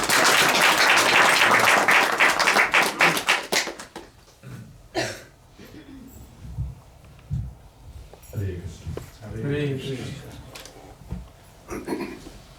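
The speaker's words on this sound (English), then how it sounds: "let's please give a round of applause" Audience applause at a lecture in Oakville, Ontario, loud and dense for about four seconds, then tapering to scattered claps, with talk and movement continuing faintly afterward.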